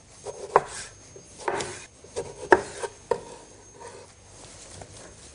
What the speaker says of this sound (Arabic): الطماطم برضو أنا حقطعها